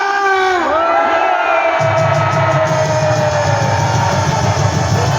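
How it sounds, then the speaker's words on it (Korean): Crowd at a Korean patriotic security rally shouting and cheering in a loud sustained roar, with rising whoops and a dense rumble of many voices throughout. "다시 한번 함성 시작!"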